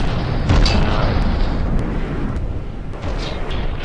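Ship guns firing in the video game From The Depths, a dense rumbling barrage of booming shots and explosions rolling continuously, loud and heavy.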